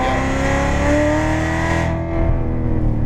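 Corvette C7 Z06 engine pulling hard on a race track, a loud continuous close-up roar with rising pitch, easing slightly near the end.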